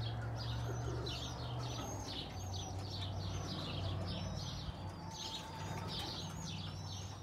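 Birmingham Roller pigeons coo in a kit box, with repeated soft rolling calls in a steady rhythm over a constant low hum and background noise.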